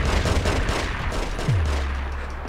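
Gunfire in the video game The Getaway, a loud continuous barrage of rapid shots with a low rumble that swells around the middle and then trails off steadily.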